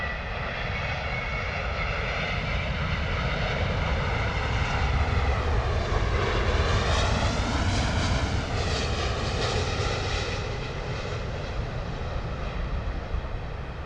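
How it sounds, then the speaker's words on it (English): British Airways Boeing Dreamliner arriving from Santiago and touching down at London Heathrow: a steady, loud jet engine roar that swells with a whining pitch sweep mid-pass, then holds as the airliner rolls out, no voices. "Lovely touchdown there from the Dreamliner."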